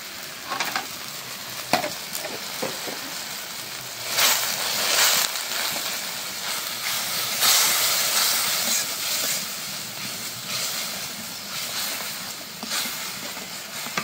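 Dried fish frying in a pan with turmeric, chili, coriander and cumin powders, a steady close sizzle and hiss with occasional stirring scrapes and louder bursts, no talking.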